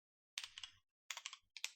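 Keystrokes on a computer keyboard while entering a line of SystemVerilog code: three short bursts of quick, close clicking separated by brief pauses, no voice.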